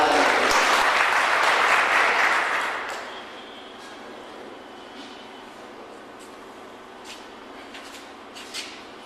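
Applause at an award ceremony for the treasurer of a workers' service organisation, a burst of crowd clapping that fills the first few seconds and then fades to a quiet room with a few faint, isolated claps.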